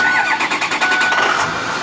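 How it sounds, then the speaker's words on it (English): Tuned and deleted 2006 Ford F350 4x4 dually diesel truck cranking cold, a brief rhythmic whirring starter churn, loud and close, catching into a running engine. "Cranks right up, cranking cold, not a sound, quiet as it could be."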